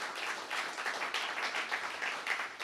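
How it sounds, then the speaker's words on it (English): A crowd at a political manifesto launch in Jamaica gives a round of applause, steady and moderately distant, a continuous wash of many clapping hands without pause. "Please give him another round of applause."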